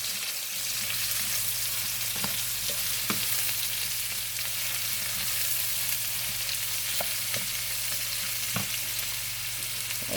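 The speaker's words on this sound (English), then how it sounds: "I'm gonna just let this right here caramelize in the beef fat" Mushrooms and beef sizzle and fry steadily in rendered beef fat in a pan, a constant crackling hiss with occasional sharper pops, close and even throughout.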